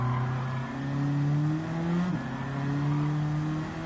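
A Nissan Silvia S15 engine in the Gran Turismo racing game holds a steady high rev with a droning tone, then a brief drop at a gear shift before it climbs again, loud and continuous.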